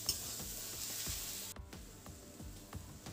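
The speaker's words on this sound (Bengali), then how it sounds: "তো এখন এটাকে বেশ কিছুক্ষণ কম আঁচে আমি ভাজা ভাজা করে নেব।" Onion and green chilli frying slowly on low heat in a pan for egg bhurji, giving a soft, steady sizzle with faint stirring scrapes and light ticks, fairly quiet, with no talk.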